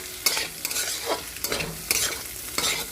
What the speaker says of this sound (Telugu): అది కూడా ఫ్రై చేసుకోవాలి.